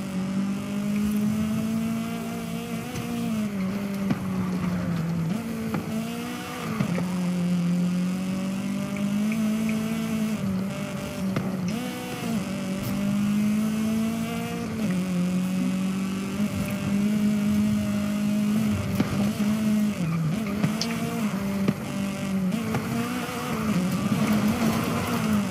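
Car engines racing in Forza on a touge mountain road, a Toyota Supra among them, with a sustained droning engine note that rises and falls through gear shifts and revs for the whole stretch.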